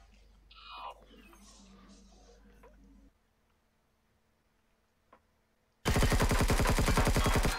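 Empyrion Galactic Survival gunfire rips out as a loud, rapid automatic burst near the end, after quieter game effects and near silence.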